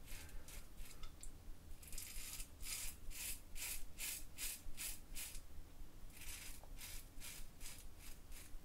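Single-edge razor shaving facial stubble on a first pass with the grain, giving close, quiet rhythmic rasping strokes in two bursts of about eight scrapes each.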